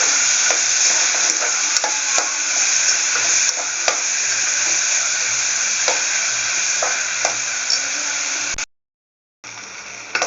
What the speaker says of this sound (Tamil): அதனால் வெங்காயம் ஆட் பண்ணிக்கிறோம்.